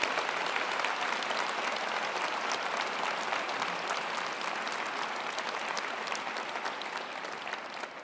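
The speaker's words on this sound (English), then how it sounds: "Please, let's give Jill another round of applause." A large audience at a ServiceNation Veterans Day event applauds loudly and continuously, a thick, even wash of clapping that barely varies across the whole stretch.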